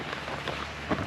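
Heavy rain pours down outside a VW Multivan camper in Western Australia, a steady broadband hiss of drops drumming on the vehicle with a few louder bursts toward the end, no voices.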